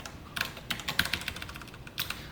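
Code being typed on a computer keyboard in short bursts of quiet, close key clicks with brief pauses between, no talking.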